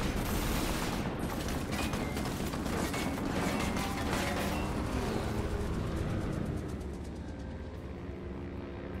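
Gunfire in the video game Assassin's Creed Unity: rapid bursts of shots and mechanical clatter run continuously under a dense, loud game soundscape, easing slightly toward the end.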